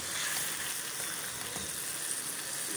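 Chicken masala with spinach puree frying in a pan, a continuous close hissing sizzle with faint crackle, steady and unbroken, no talking.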